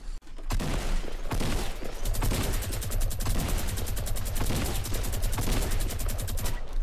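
Rapid bursts of automatic gunfire from a Fortnite match ring out loud and dense, with a sustained rattling volley running almost unbroken from start to finish.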